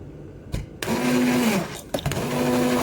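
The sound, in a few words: blender running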